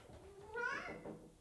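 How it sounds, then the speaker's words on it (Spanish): A house cat gives a single short meow, close and fairly quiet, rising then falling over about a second. "la acabo de mirar y me está maullando a mí"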